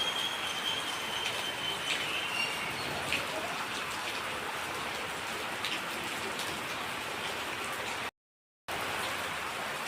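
Steady early-morning rain pouring down in Barshi taluka, a dense even hiss of drops hitting surfaces, constant and fairly close, with a brief gap near the end.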